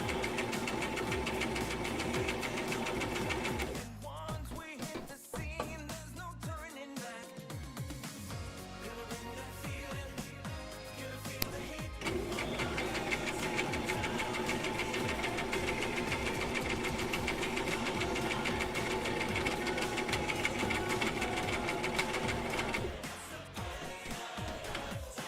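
A sewing machine stitches a snug-fitting cosplay glove, its motor whirring in a steady mechanical buzz that pauses and restarts in short runs, close by with no speech.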